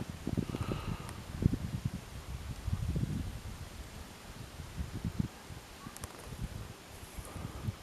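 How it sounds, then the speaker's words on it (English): Gusts of wind buffet the microphone beside an abandoned highway turnpike, low rumbling bursts that rise and fall across several seconds, loud and close, with faint rustling between the gusts. "we got more gusts coming"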